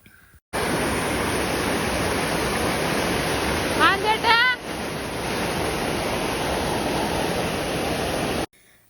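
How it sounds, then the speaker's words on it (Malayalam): Loud, steady roar of water rushing over a small dam, a continuous broadband wash with faint bird chirps breaking through briefly midway. "ഈ വെള്ളത്തിൻ്റെ ശബ്ദ ഒച്ചയൊക്കെ ഉള്ളതുകൊണ്ട് നമ്മൾ അവിടെ നിന്ന് വിളിച്ചാൽ ചിലപ്പോൾ കേൾക്കൂല"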